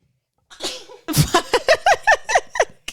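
A woman with allergies sneezes loudly and close, a sharp burst after a brief breath, then a string of rapid bursts of laughter from another woman right after.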